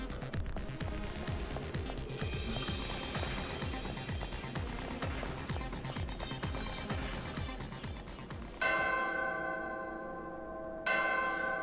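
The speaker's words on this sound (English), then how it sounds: "So the door opens if you ring the bell?" A bell rings repeatedly in the video game Danganronpa Another Episode: Ultra Despair Girls, a steady tolling run over busy rhythmic game sounds, with two louder, brighter strikes near the end.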